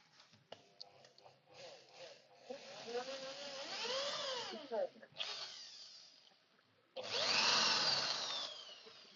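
Power drill boring holes into a panel to mount a hanging bracket, heard as several whining bursts of drilling separated by pauses, with a loud final burst near the end and speech in between.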